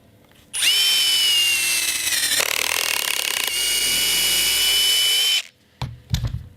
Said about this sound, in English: Put a little countersink on there.